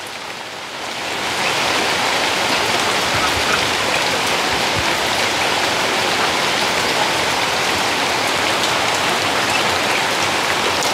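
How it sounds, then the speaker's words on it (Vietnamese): Heavy tropical-depression rain pours steadily in the Mekong Delta countryside, a dense, even hiss of drops hitting surfaces that swells in the first second and then holds constant and close, with no talking. "cho nên mưa rất là nhiều"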